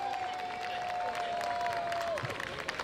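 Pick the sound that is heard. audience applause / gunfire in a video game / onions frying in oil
audience applause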